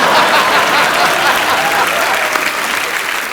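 A studio audience at The Kapil Sharma Show, a comedy talk show, claps loudly and steadily for Madhu Chopra, Priyanka Chopra's mother, a dense, continuous wash of applause with a faint chuckle.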